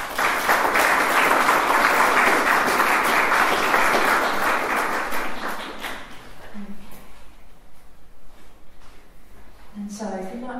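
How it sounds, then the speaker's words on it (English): A church congregation applauds for birthdays during a service: a dense burst of clapping that lasts about six seconds, then thins into scattered claps with a voice coming in near the end. "we'll give them a round of applause"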